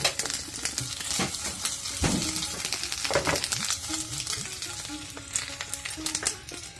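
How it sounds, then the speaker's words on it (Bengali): Beef tripe fries in an oily pan with a moderate crackling sizzle. Scattered clicks and scrapes of stirring run through it. "আমার বট ভাজা সম্পূর্ণ প্রস্তুত এখন আমি চুলা থেকে নামিয়ে নেব গ্যাসটাকে অফ করে দিচ্ছি"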